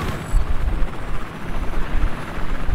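A transport helicopter in Battlefield 4 on the Shanghai map thunders with a loud, steady rotor and engine drone that holds throughout, close and unbroken, with no talking.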